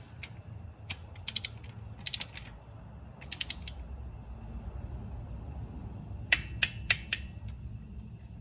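Several sharp clicking bursts from a torque wrench tightening cylinder head bolts on a 2004 Scion xB, in short clusters, close and fairly loud over a low background hum, with pauses between groups.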